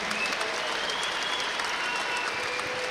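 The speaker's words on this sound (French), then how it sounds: "Vous méritez tous les deux énormément d'applaudissements." Sustained applause from a large arena crowd at the Palais des Sports de Marseille for two fighters after a Nuit Des Champions final, a steady dense roar of clapping throughout.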